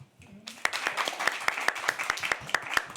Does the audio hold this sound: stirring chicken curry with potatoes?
no